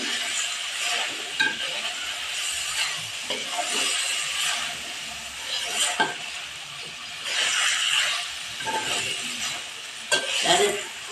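Chopped onions sizzle and fry in hot oil for potato karela, with a utensil stirring and scraping through them in repeated bursts and occasional clinks against the pan, steady and close throughout.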